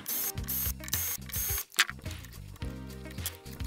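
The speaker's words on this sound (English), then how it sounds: "I'm going to go ahead and unscrew them from the chassis, which are these screws here" A powered screwdriver whirs and ratchets in short stop-start runs while backing screws out of the metal chassis of a Neve VR channel strip being fitted into a rack kit; close, mechanical and without talk.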